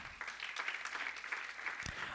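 A church congregation claps for the Lord during a Spanish-language sermon on 2 Thessalonians, a quiet, fairly distant patter of many hands with one sharper clap near the end.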